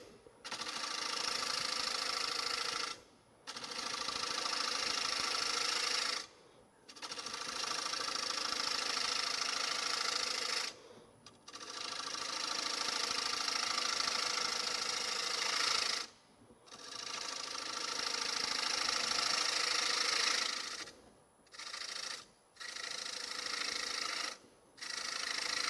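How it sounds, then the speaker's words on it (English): Woodturning on a lathe while Hunter Viceroy cutting tools shave a Beads of Courage box, giving a steady scraping whir in long passes with brief pauses between cuts, fairly quiet and with no talking. "What's nice about these Hunter Viceroy tools, I can cut in both directions."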